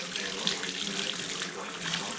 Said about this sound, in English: So I'm just going to turn the hot water on.